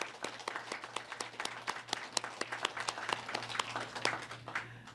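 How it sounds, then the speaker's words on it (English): Parents, staff and students at an art show and awards ceremony clap together in a small room, sharp separate claps from a modest crowd forming lively, uneven applause with a low steady hum underneath. "Let's clap for ourselves."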